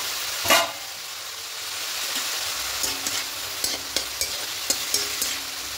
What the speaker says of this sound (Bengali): এইভাবে রেখে শাকটা ভেজে নেব